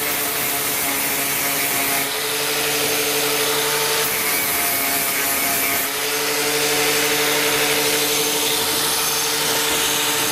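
A grinder wheel grinds steadily and loudly against metal with a constant whirring drone that shifts slightly in tone a few times, with no talk over it.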